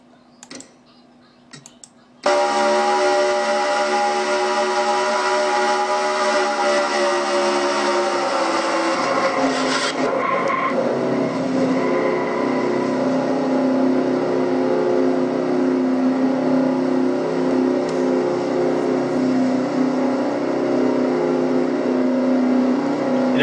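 Onboard engine of a battered Castrol GTX Cup Series race car after hitting the wall, holding a steady droning note at constant revs of about 4,000 RPM, loud and unbroken with a slight shift in tone partway through.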